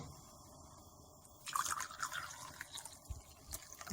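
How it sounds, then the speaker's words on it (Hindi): Water splashes and trickles into a cooking pot of semolina halwa for a couple of seconds, a close, wet pouring sound with small drips, after a quiet start. "अब इसमें पानी डालते हैं।"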